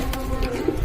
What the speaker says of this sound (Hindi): ये देखिए जी, अंदर भी कबूतर हैं, बाहर भी कबूतर हैं।